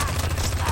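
Rapid automatic gunfire from the horror anthology film V/H/S/94 rattles in a dense, continuous burst with heavy low-end thump, loud and close, filling the short moment without a break.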